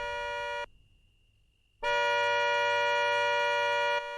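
A car horn blares in a long tonal blast, breaks off briefly, then sounds again even louder and sustained for a couple of seconds.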